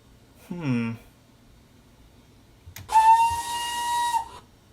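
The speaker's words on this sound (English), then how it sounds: "it sounds an awful lot like Will Braddock's whistle edit that he did for John at one point" In Train Simulator 2021, a short low groan sounds, then after a pause a Hudswell Clarke contractor's tank locomotive's steam whistle blows loudly for about a second and a half, a steady chord with a hissy edge.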